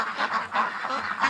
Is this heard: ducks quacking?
yes